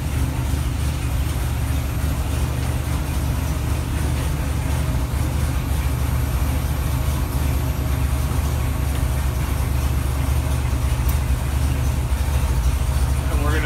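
A GM LSx 408 V8 holds steady RPM on an engine dyno, a loud continuous roar with a deep rumbling low end that never lets up.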